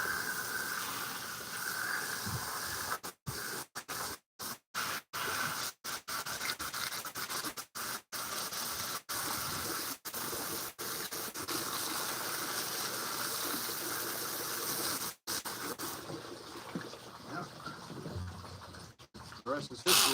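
Tap water runs steadily while freshly cleaned bluegills and specks are rinsed, a continuous close hiss broken by several brief cutoffs.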